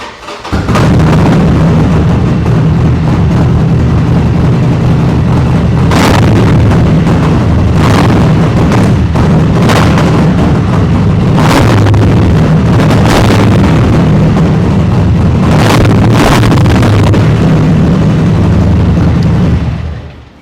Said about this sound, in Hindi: स्क्रीमिकल का एक एग्जॉस्ट लगे तो एक बारी आवाज़ सुनना तो बनता ही है।